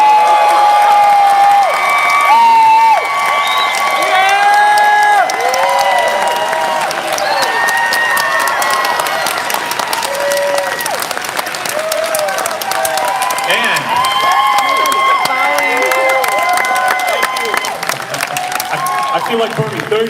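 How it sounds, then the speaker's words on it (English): A Politicon 2019 audience applauds, cheers and whoops for Kyle Kulinski, loud sustained clapping and shouts filling the hall, with scattered voices calling out over it. "give a big round of applause for the host of the Kyle Kulinski Show"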